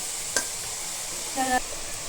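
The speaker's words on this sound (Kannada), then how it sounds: "ಈ ಥರ ತುಪ್ಪದಲ್ಲಿ ನೀಟಾಗಿ ಫ್ರೈ ಮಾಡ್ಕೋಬೇಕು" Grated carrot frying in ghee for carrot halwa, a steady soft sizzle with a couple of brief scraping stirs of a spoon in the pan, close up.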